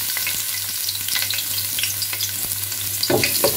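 Garlic frying in a pan with a bright, continuous sizzle and scattered pops, a low steady hum beneath, and a louder surge of crackling near the end; no voices.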